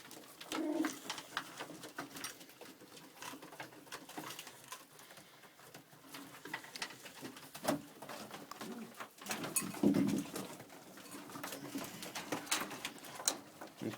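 Texan pigeons cooing in a loft with deep-litter bedding, low soft coos repeating at intervals with light scratching and fluttering around them.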